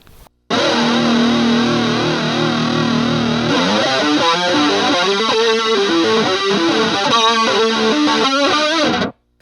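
Distorted electric guitar through a Walrus Audio Julia chorus pedal at a fast rate, playing a continuous sustained riff loudly and alone, the pitch shimmering rapidly throughout.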